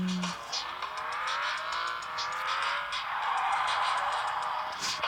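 A car in the video game Gangster Rio, its engine revving and rising in pitch as it accelerates, with tire noise and a few sharp clicks near the end, no talk.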